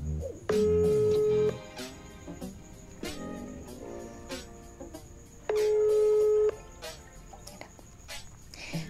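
An outgoing WhatsApp call ringing: two loud ringback tones about five seconds apart, with quieter music playing underneath.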